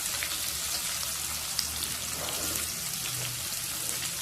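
Chopped onions frying in hot oil with fennel seeds and garlic, a soft steady crackling sizzle close by, continuous and fairly quiet with no talk.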